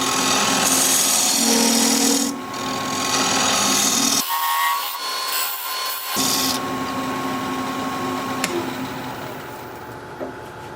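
A wood lathe turning a cracked piece with a 3/8 inch bowl gouge, a loud continuous scraping rasp of the tool on spinning wood that drops off briefly midway and then resumes more softly, with no voices.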